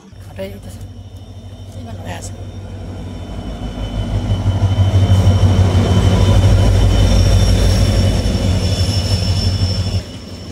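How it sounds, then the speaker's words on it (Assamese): The Guwahati Intercity Express rumbles into a station and grows steadily louder as it rolls closer, a low heavy drone with rail clatter. People talk nearby, and a brief high tone rings out. "ফাইনেলি আহি গ'ল আমাৰ ট্ৰেইন"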